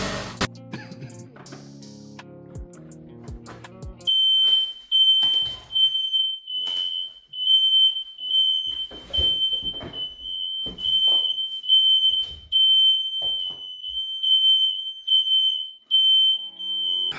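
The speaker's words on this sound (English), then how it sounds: "Almost made it through the whole thing without the fire alarm going off." A fire alarm goes off indoors, a loud shrill tone sounding in repeated pulses for many seconds after some clattering and knocking at the start.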